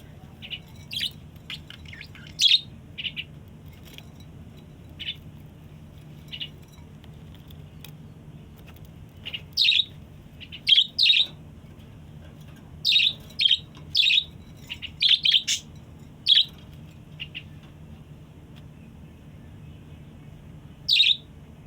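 Pet birds kept in a small room chirp and tweet in bright, sharp bursts that come in irregular clusters, growing busier in the second half over a faint low background hum.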